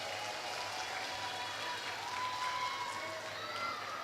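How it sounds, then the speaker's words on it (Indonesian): Steady applause from the audience at a madrasah year-end ceremony in Semarang, fairly quiet and distant, continuous clapping with faint crowd noise and children's voices. "Tepuk tangan."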